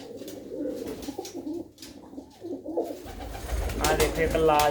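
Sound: pigeons cooing

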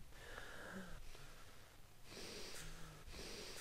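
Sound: character breathing in Cry of Fear video game

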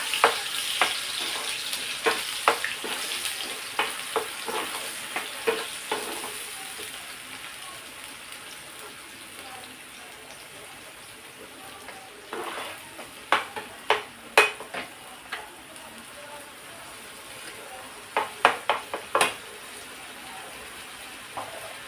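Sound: sautéing masala with onion and ginger-garlic paste

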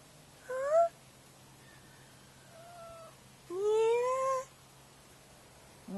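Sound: cat meowing

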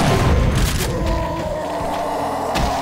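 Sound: gunfire killing gunners in the video game Doom 2 (Project Brutality)

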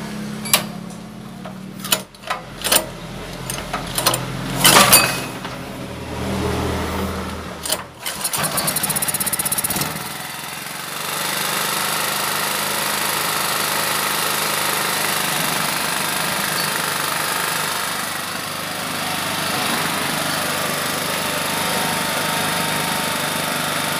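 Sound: Honda GX200 generator engine starting and running

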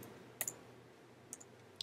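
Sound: pressing the delete key on a computer keyboard

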